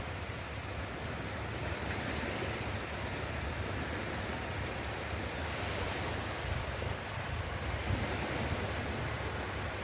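Continuous roar of sea surf washing in steadily, with wind noise blended in and no voices.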